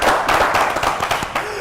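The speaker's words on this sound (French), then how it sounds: "C'est applaudi." An audience claps briefly during a broadcast show, a short burst of scattered hand claps mixed with voices talking over it.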